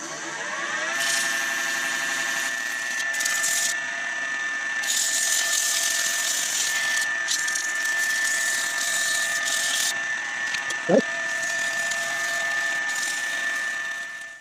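Turned wooden pear sanded on a spinning lathe with 120-grit paper, a steady motor whine with a high tone and a harsh scraping hiss that swells and fades, plus one brief knock.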